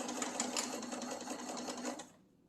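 Sewing machine running a long stitch on a fabric jar opener, a fast steady whirring hum close by for about two seconds before stopping abruptly.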